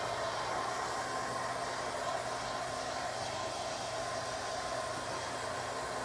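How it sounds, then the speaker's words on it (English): A hair dryer blows steadily on a homemade sign at a DIY sign workshop, a continuous broadband whoosh held close and loud from start to finish with no break. "just give it a quick blow dry"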